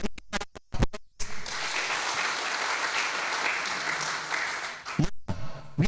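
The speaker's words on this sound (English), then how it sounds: "Can we give a round of applause?" A round of applause rises from a Kenyan public health summit audience, steady and moderately loud for several seconds, with a voice talking briefly before and after.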